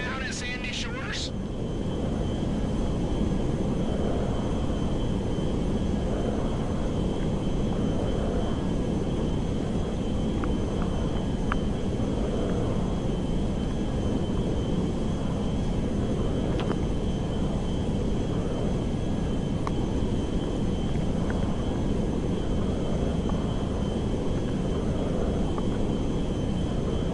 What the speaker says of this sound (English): Now we just gotta land the plane and unload it.